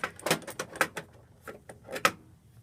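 Old screwdrivers clatter and scrape as hands rummage through a cluttered drawer, with a string of irregular metallic knocks and rattles, close and moderately quiet.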